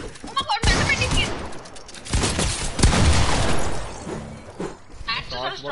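Rapid gunfire in the battle royale game Fortnite, loud bursts of shots and impacts in quick succession, with a voice talking over the shooting.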